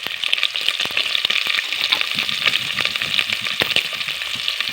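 Onions frying in a pan for beef stew, a steady close sizzle with scattered crackles and pops throughout, no voices.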